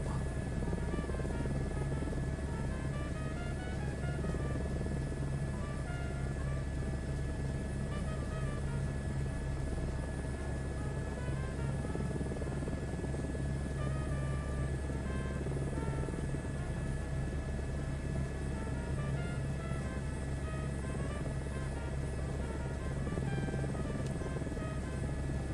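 A helicopter comes in to land at a helipad in Microsoft Flight Simulator 2024, its rotor and turbine making a constant dense whirring drone with a steady tonal whine throughout.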